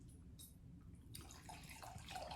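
Red wine splashes into a glass in a bright, liquid trickle that swells after a quiet start and keeps going for a couple of seconds over a low background hum.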